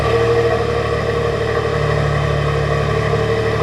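Ford F-150 Tremor with a 6-cylinder engine and dual exhaust, a steady loud low engine hum running unbroken throughout, close to the microphone.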